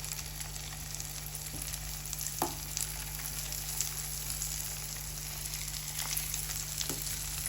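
Soft, continuous sizzle of a crispy poha and wheat-flour snack frying gently in butter in a pan over low heat, with occasional small pops over a low steady hiss.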